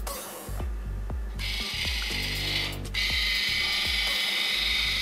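Ratcheting clicks and gear noises from the free-wheel pulley mechanism of a manually operated competition robot as it moves its gripper arm, sounding as a series of sharp, regular clicks with bursts of higher whirring in between.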